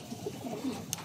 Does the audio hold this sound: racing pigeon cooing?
yes